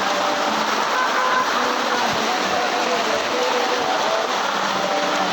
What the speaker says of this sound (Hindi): बहुत खतरनाक बारिश आ रहा है भाई।